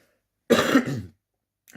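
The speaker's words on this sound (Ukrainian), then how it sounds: "кашлянув і збився" A single short cough or throat clear, close and fairly loud, surrounded by near silence.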